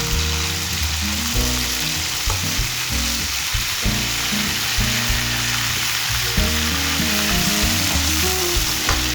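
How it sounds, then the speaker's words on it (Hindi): Mutton pieces frying in a pan give a continuous loud, dense sizzle with occasional stirring sounds, close up and uninterrupted by speech. "इसे ना 5 मिनट तक फ्राई करना है ताकि हमारा गोश्त अच्छे से गल सके"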